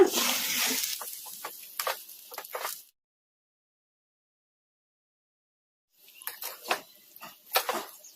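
Raw mango rice (village-style chitranna) being mixed in a pot with a spoon: a few quiet clinks and scrapes, then a long silent pause, then more scattered metallic taps and scrapes close by.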